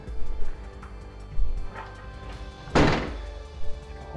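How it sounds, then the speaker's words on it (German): An old wooden door of a barracks building in an abandoned East German holiday camp is pushed open, giving a few dull thunks and knocks ending in one loud, close bang, with no talking. "Okay, die Tür ist offen."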